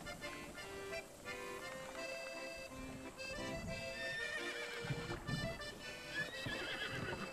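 Horse in Zelda: Breath of the Wild neighs and whinnies while hooves clip-clop steadily, set against soft game music and ambience.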